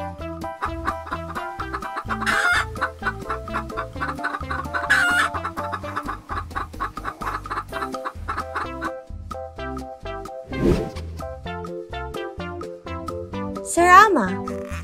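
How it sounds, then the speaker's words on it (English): A Burmese chicken clucks in a rapid steady series and crows a few times, close and prominent, with sharp higher calls breaking in near the middle and end. "Burmese Chicken."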